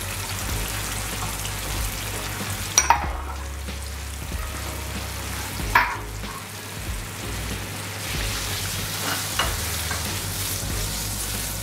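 Adobo sauce of vinegar, oyster sauce, ginger and honey sizzles hard in a hot pan, a steady loud frying hiss with a few sharp spits and stirring clatters along the way.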